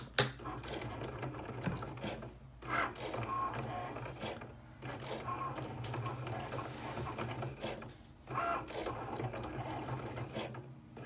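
A Cricut cutting machine slices vinyl with a steady, whirring mechanical drone, broken by brief pauses and resumed passes as the carriage moves, close and continuous with no talk.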